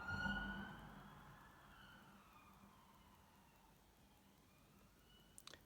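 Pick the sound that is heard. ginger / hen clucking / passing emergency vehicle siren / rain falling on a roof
passing emergency vehicle siren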